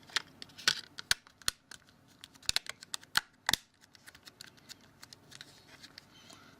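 A Samsung Galaxy S2 back cover is pressed into place, giving a series of faint, sharp plastic clicks and snaps in irregular rhythm, close by and otherwise quiet.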